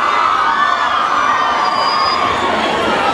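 Loud, sustained high-pitched screaming from girls in a packed concert crowd at a provincial youth festival, a dense unbroken roar filling the whole moment with no clear speech.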